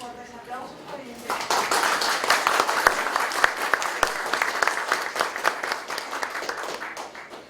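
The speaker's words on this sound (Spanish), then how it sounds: "Les pedimos para ambos fuertes aplausos" Audience applause at a legal conference held by a Lima Norte court, beginning after a brief voice and swelling into dense, sustained clapping that carries on steadily, with scattered voices beneath it.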